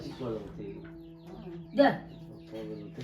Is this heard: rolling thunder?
no